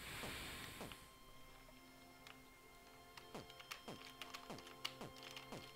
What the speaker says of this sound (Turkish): Özür dilerim çok fazla pat pat pat gibi sesler geliyorsa klavyeden